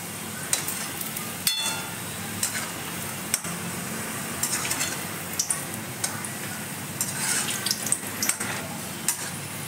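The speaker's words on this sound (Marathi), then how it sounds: "तर चला हे तळून घेते मी आणि दाखवते." Frying in hot oil for a devotional offering, the oil slightly overheated, gives a steady soft sizzle with scattered stirring clinks and taps from a pan, close and continuous with no talk.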